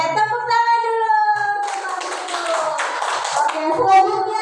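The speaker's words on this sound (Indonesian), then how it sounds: "Oke, tepuk tangan dulu." A class of elementary schoolchildren claps hands together in a brisk two-second burst, following a sustained voice and with children's voices mixed in.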